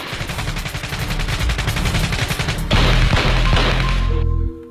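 Gunfire sound effect, a rapid fusillade of loud, sharp shots in quick succession like automatic weapons, with a brief pause then another dense burst before cutting off.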